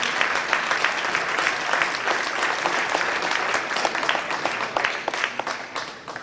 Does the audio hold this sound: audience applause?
yes